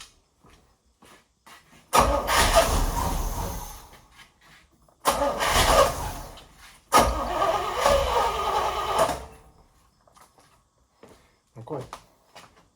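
A big-block V8 in a 1972 Chevrolet Nova with a four-speed cranks in three separate bursts of a few seconds each. It catches briefly but fails to keep running, with quiet pauses in between.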